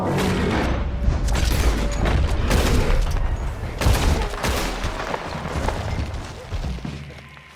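Gunfire from a battle in Red Dead Redemption 2, a dense, loud barrage of rapid overlapping shots and booms that continues without letup, with faint voices mixed in.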